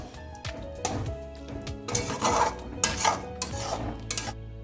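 A spoon scrapes and clinks around a pan as prawn masala is stirred with chopped coriander, making close, uneven scraping strokes and soft metallic knocks over a low background hum.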